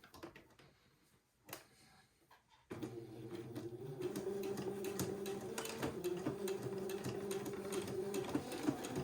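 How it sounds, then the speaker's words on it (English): A sewing machine runs a straight stitch to tack elastic in place at the end of an elastic casing on a child's heirloom bubble romper, starting after a quiet pause with a few light taps, then a steady close-up whir for several seconds. "using a straight stitch, I'm going to tack that elastic in place right at the end of the elastic casing"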